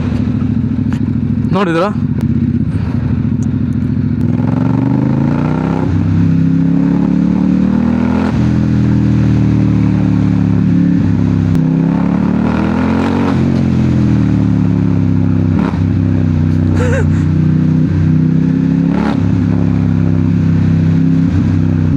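A modified motorcycle in Mangalore is opened to full throttle from first gear, its engine roaring loud and close with rising and falling revs, while someone speaks briefly over it.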